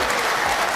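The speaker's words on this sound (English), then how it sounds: "Then, the crowd erupted. Applause filled the studio." A studio audience breaks into applause, a dense, steady roar of many hands clapping that fills the short moment at an even level, with no voices over it.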